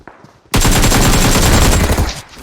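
Sustained loud automatic gunfire from PUBG Mobile bursts in after a brief quiet moment, a rapid continuous volley of shots lasting nearly two seconds before tapering off.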